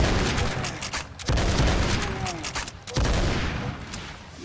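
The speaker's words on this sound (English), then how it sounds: "Yes, Demon's Bane. Good shotgun." Demon's Bane shotgun firing in a video game, heavy booming blasts in quick succession with a couple of sharp resets between loud, dense bursts, close and alone.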